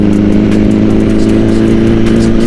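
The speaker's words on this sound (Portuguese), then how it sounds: "O ronco desse 4 cilindros maravilhoso." A Kawasaki four-cylinder motorcycle engine runs loud and close, a deep steady growl with rapid rhythmic pulsing and throttle blips, no talk over it.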